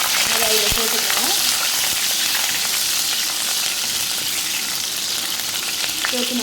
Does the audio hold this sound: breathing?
no